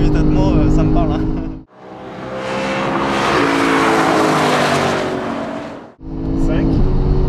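A Lexus GS F with a naturally aspirated 5.0-litre V8 accelerates hard, its loud engine note climbing steadily for several seconds between stretches of talk from people inside the car.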